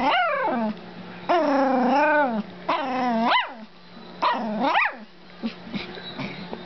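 A dog barks and yips on command in a string of loud, close, whining bark bursts with short pauses between, some ending in growly whimpers.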